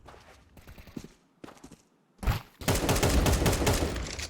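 Gunfire in Counter-Strike 2 comes as scattered shots and footsteps, then a dense, loud burst of rapid fire near the end.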